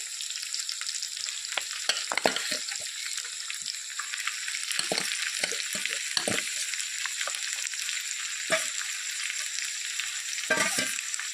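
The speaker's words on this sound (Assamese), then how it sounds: "এতিয়া মই মাংসখিনি দি দিম" Marinated local chicken sizzles with onions in hot oil in a kadai, a steady dense crackle broken by frequent scraping stirs and brief clatters.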